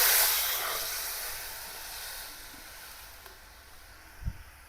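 Buttermilk poured into a pan of fried okra sets off a strong hiss that starts loud and fades to a steady, quieter sizzle, with a small clink near the end.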